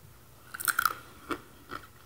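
Large buffalo-flavored almonds crunched and chewed up close, a burst of crisp crunches followed by two softer bites, no talking.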